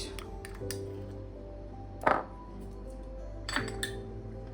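Katla fish pieces being mixed in a bowl with ground spices, ground charmagaj paste and ginger-garlic paste for Bengali fish chaap: two distinct spoon clinks against the bowl over a quiet background hum, no talking.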